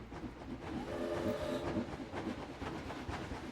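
A roller coaster train in Planet Coaster rushes downhill with a dense, steady rumble and faint clattering, holding a constant roar throughout with a brief whistle-like tone partway through.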